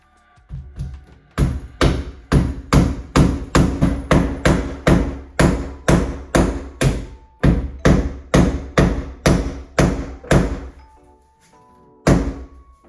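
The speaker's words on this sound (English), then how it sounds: "hammer it in" Steady, forceful hammering, about two dozen heavy thuds in an even rhythm, pausing briefly before a final blow.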